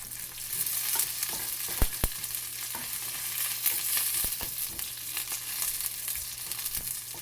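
Onions frying in hot oil with dried red chillies and curry leaves for a coconut fish curry, giving a continuous crackling sizzle close by, broken by a few sharp stirring knocks from a utensil and no talking.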